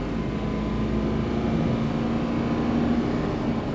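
A 6.0L diesel truck engine pulls hard at wide open throttle, with a steady, loud, continuous drone and a rising tonal whine throughout and no pauses.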